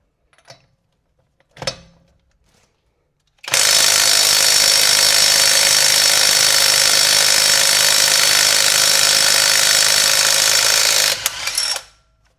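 Generic impact wrench loosening a bolt torqued to about 150–170 foot-pounds: two brief knocks, then a loud continuous hammering rattle held for roughly eight seconds before it stops.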